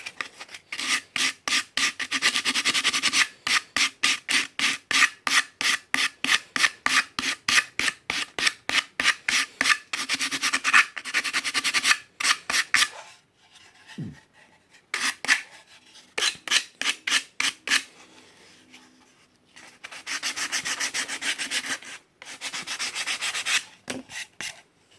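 Wood sanded by hand with sandpaper, close and loud, in rapid rhythmic back-and-forth rasping strokes, with short pauses and a quieter stretch partway through before steady strokes resume.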